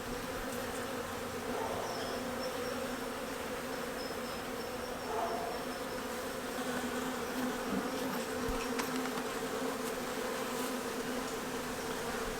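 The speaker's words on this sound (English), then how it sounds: "So you have a bunch of them flying around." Honey bees fly around a hive in May, making a steady, dense buzzing drone throughout, close and continuous, with no talking.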